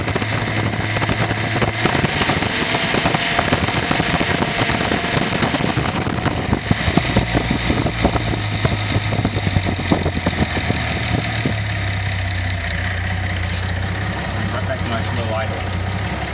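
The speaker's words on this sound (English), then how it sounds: "Nice low idle." A car engine idling low and steady during an idle air control adjustment, a continuous rumble with wind noise over the microphone and someone talking throughout.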